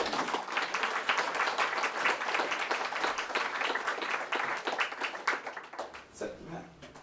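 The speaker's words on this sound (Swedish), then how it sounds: "En varm applåd för våra inledare." An audience applauding to welcome the speakers at a panel discussion, dense indoor clapping that holds steady and then thins out, with voices emerging near the end.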